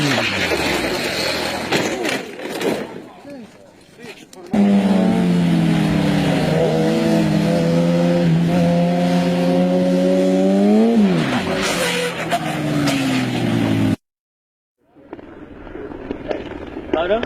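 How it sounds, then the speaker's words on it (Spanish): Small, lightweight motorcycle passing on a road: a loud, close engine whine whose pitch shifts as it goes by over several seconds, then fades, followed by a brief silence and quieter road noise. "esta motito es una moto chiquitita"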